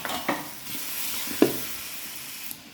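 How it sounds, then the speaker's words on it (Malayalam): Beef curry masala being stirred and sautéed in a pan gives a steady soft sizzle, with a few sharp scrapes and clinks from the spoon breaking through at intervals. "ഇതേപോലെ ഇളക്കി വഴറ്റിയെടുക്കുക."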